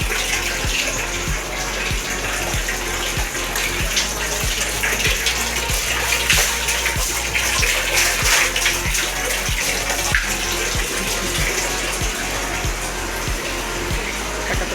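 Tap water gushes steadily into a bucket in a home washing area, a loud continuous pour with no talking.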